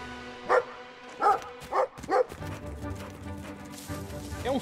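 Four loud, separate barks from a dog-like creature in the video game Brothers: A Tale of Two Sons Remake ring out over a low ambient game soundscape, with faint background noise between them.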